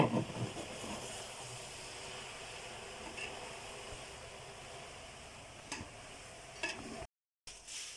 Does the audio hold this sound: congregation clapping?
no